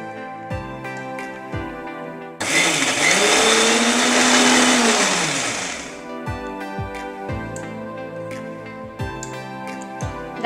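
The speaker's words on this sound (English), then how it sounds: "let's coarsely grind the coconut, green chili and curry leaves" A mixer grinder coarsely grinds coconut, green chili and curry leaves in a loud, roaring burst of about four seconds, framed by soft background music before and after.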